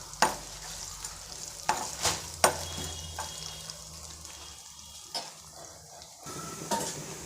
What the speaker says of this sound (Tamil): இதை கொஞ்சம் நல்லா வதக்கிக்கலாம்.